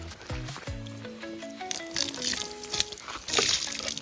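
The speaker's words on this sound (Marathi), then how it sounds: "हरभरा धुवून घेऊ आपलं" Chickpeas being rinsed in water, with soft splashing and squishy swirling through most of the clip, heard close under people talking.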